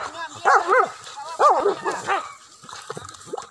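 Hunting dogs bark and yip excitedly in short bursts during a wild boar hunt near Padang Sibusuak, Sijunjung. The barking is close and loud, with people calling out nearby.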